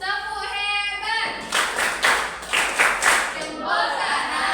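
A class of children does a rhythmic 'tepuk hebat' cheer for a group, several sharp bursts of group clapping in a patterned beat, mixed with children's chanting voices.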